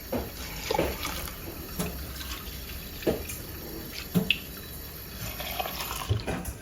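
Water from a tap runs and splashes into a jar with faint, uneven trickling, soft drips and small splashy peaks over a low steady rush, close by and alone.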